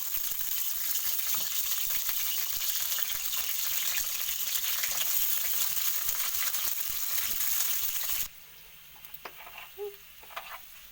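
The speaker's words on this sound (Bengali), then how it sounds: "এর মধ্যে আলুগুলো তুলে দেবো, আলুগুলো লাল লাল করে ভেজে নেবো।" Potatoes frying in mustard oil in a pan, a loud continuous sizzle and crackle that cuts off abruptly near the end, leaving faint quiet clinks and rustles.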